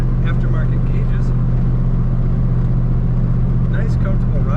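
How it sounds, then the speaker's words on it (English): A 1937 Ford Deluxe Sedan accelerates from inside the cabin, its engine a loud, steady low drone with a strong hum that holds throughout and light road noise on top. "Again, fun to accelerate. Got good throttle response in this car."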